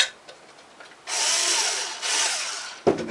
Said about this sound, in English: Just pre-drill your holes, center them, start your screw